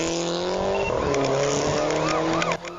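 A white sedan revs and accelerates hard in traffic while escaping a police check, engine roaring close with rising pitch sweeps and faint tire noise, cut off near the end.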